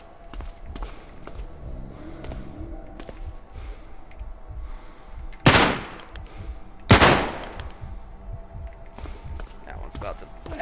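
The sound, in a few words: rifle gunfire in the video game Cataclysm: Dark Days Ahead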